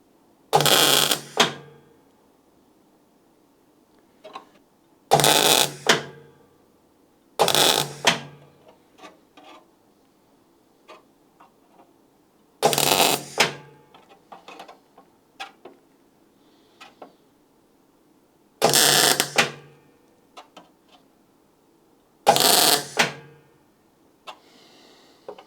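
Welding a repair piece into a rusty jacking point on a Citroen XM V6: short, loud bursts of crackling welding arc repeat every few seconds. Faint ticks and clicks fill the quiet gaps between bursts.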